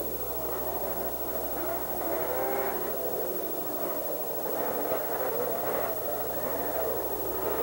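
Big 800 class snowmobiles race at a snowmobile roundup championship, a continuous distant engine drone with rising and falling whines as machines pass, steady and moderately loud with no talk.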